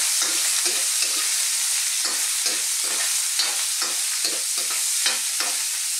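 Ox tripe for Filipino callos is stirred and fried in a pan, giving a steady hiss of sizzling oil broken by repeated scraping stirs in an uneven rhythm, close and fairly loud, with no talking.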